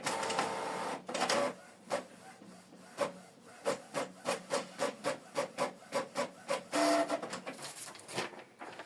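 A Canon Pixma TS4150i inkjet printer prints a test page, its feed and print-head mechanism making a run of rhythmic whirring and clicking strokes up close, with brief pauses between passes and no speech.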